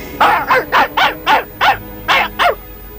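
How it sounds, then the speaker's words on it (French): A dog barks loudly and close by, eight sharp barks in a quick, fairly steady rhythm with no other sound around them. "C'est parce qu'il aboie, il doit leur faire peur."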